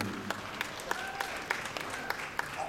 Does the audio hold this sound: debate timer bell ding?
no